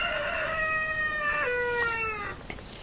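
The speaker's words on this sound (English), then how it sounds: "my old rooster over here is getting jealous" An older rooster crows once, close and loud: a long, drawn-out harmonic call that holds steady and then slides down before breaking off, with no talking over it.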